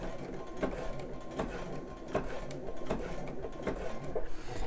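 Domestic sewing machine stitching bra elastic, a close, rhythmic mechanical chatter with regular louder needle thumps about twice per second, running continuously throughout.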